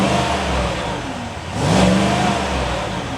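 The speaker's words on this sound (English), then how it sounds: "I will just give it a quick rev here for you so you guys hear what it sounds like" 2021 Cadillac Escalade Platinum V8 engine idling with a low grumble, then a single quick rev swelling up and settling back to idle, close and fairly loud.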